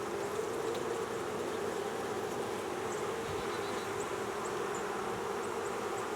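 Honey bees buzz steadily in an open hive during a cold-weather feeding check, a dense, continuous drone close by with no talk over it.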